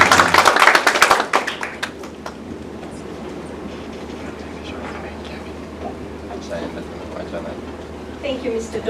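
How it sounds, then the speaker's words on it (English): A burst of clapping from an audience at a book launch fades quickly after about a second, leaving a quiet room with faint scattered sounds and some low voices near the end. "Let's clap for her until she comes up here."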